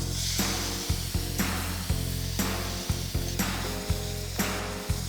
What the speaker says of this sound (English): I'm gonna add my veggies in now and cook my veggies down with the roux.